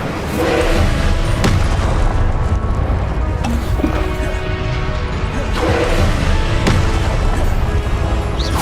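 Fire spell combat from Hogwarts Legacy roars loudly and steadily, with heavy booming blasts and crashing impacts breaking through a dense, rumbling wash of flames.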